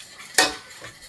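A spoon stirring a mixture in a cooking pot gives one sharp metallic clink and scrape, close and brief, in an otherwise quiet kitchen.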